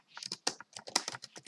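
Quick, irregular clicks of fingers typing on a computer keyboard, close and fairly quiet, about a dozen keystrokes in a short burst with brief pauses, no voices.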